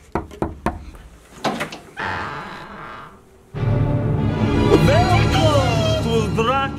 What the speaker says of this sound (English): Let's just knock, say trick or treat